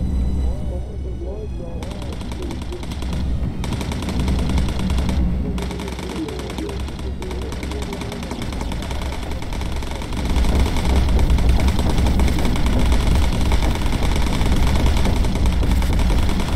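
Bomber gunners in Bomber Crew fire long, steady machine-gun bursts over a constant engine drone, and the fire grows louder and denser toward the end while a voice talks intermittently.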